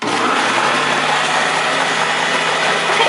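An electric mixer whirs steadily and loudly as it blends ginger snap cookie dough with molasses, a constant mechanical drone lasting the whole stretch with no speech.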